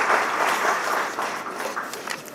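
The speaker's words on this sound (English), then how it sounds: "We still need a loud round of applause for somebody joining online." Applause from a trade fair audience greeting a remote participant on an agriculture panel: a dense, steady wash of many hands clapping, fairly even throughout with slight thinning toward the end.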